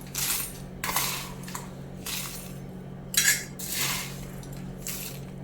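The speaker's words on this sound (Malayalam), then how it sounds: "ഇനി നമുക്കിതിനെ മിക്സിയിലെ ജാറിലിട്ട് നല്ലോണം ഒന്ന് പൊടിച്ചെടുക്കാം" A mixer grinder runs in short pulsed bursts, dry rasam powder spices rattling and clinking inside the jar between brief pauses, over a low steady hum.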